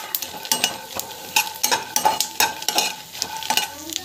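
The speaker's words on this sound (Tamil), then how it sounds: "ஸோ இந்த மிளகா வந்து பார்த்திங்கன்னா நல்லா வந்து வதங்கணும்" Chillies sauté in a hot pan with a steady sizzle, broken by repeated close scraping strokes as a spoon stirs them in an uneven rhythm.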